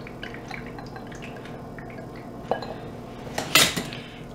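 A seasoned potato mixture is dumped into an Instant Pot while stewing chicken, giving clinks and scrapes of utensils against the pot. A louder clatter comes near the end, with no talking.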